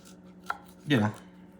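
Garlic being cut for Puerto Rican hot sauce: one short knife chop or crunch, near and fairly loud, with a faint tap just before it and quiet around it.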